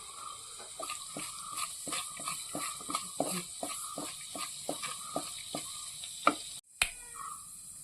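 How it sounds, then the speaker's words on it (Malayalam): Fenugreek seeds crackling in hot oil for a Kerala sardine curry, giving a steady run of quick sharp pops over a soft sizzle that ends in a brief louder clatter. "എണ്ണ ചൂടായി ഉലുവ പൊട്ടാൻ തുടങ്ങി."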